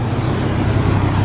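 Engine of an Audi R8 running with a low, steady rumble, close and fairly loud, holding an even idle-like drone for a short moment without clear rev spikes.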